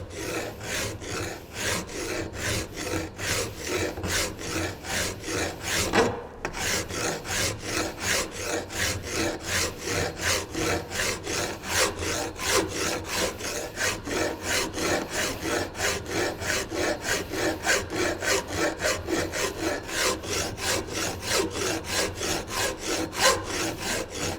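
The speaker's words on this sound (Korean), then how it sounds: "꼭 갈 때는 몸으로 미는 줄질을 하시기 바랍니다" A hand file rasps back and forth across a workpiece in a welding training workshop, a long run of loud, regular scraping strokes at a steady quick rhythm, close up, with one brief pause early on.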